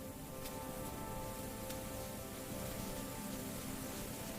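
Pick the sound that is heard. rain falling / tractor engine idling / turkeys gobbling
rain falling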